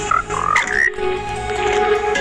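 Frog croaks from a video game mod featuring a paper frog, a few bright chirping calls over a steady droning backdrop, fairly loud and close, no voices.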